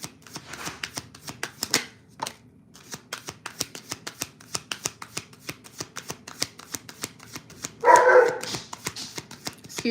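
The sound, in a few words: dog barking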